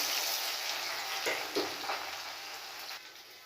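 Chopped onions with green chillies fry in hot oil in a pan, a steady close hiss and crackle with a few soft stirring scrapes and no talk.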